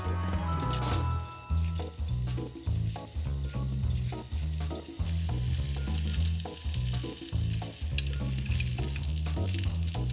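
Karaage chicken pieces deep-frying in hot oil, a loud continuous close sizzle and bubbling with occasional clinks, over a low steady background hum.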